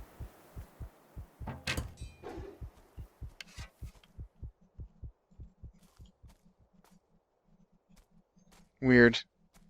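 A rhythmic heartbeat from the video game Betrayer thumps steadily in a regular pulse, clear and low, with brief talk over it early on and a short loud burst near the end.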